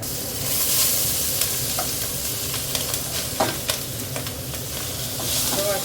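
Whole bay leaf, green and black cardamom, mace and cinnamon frying in hot oil, giving a steady close sizzle with occasional sharp pops and crackles throughout.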